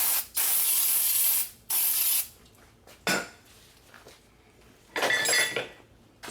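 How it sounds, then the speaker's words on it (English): Brake cleaner aerosol sprayed onto a new front brake rotor of a Subaru Forester in several loud, hissing bursts, with short pauses and faint metallic clinks between them. "I'm gonna use some brake clean to clean up the new brake rotor"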